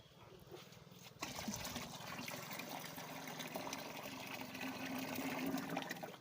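Liquid mustard cake fertilizer is stirred into a container of water for garden plants, a steady soft sloshing and trickling that carries on without pause at a low, close level, with no talk.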